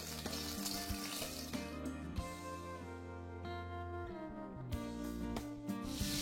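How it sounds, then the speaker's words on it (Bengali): Dried fish, chapa shutki, frying in a pan, turned side to side, gives a steady, close, continuous sizzle with no talking. "শুটকিটাকে একটু হালকা এই পাশ ওই পাশ করে আমরা ভেজে নেব"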